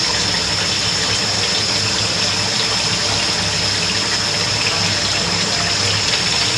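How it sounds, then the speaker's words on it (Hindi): Water poured into simmering gravy with curd while cooking at home, a steady rushing, gushing pour that lasts throughout at close range with no talking. "फिर पानी डाल के ना ज़रा सा"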